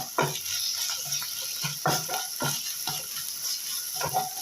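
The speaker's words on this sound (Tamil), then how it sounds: "இஞ்சி பூண்டு பச்சை வாசனை போகிற அளவுக்கு வதக்கிடுங்க" Ginger garlic paste sautéing in a pan for goat leg gravy: a soft, steady sizzle broken by repeated scrapes and taps of stirring, close and moderately quiet.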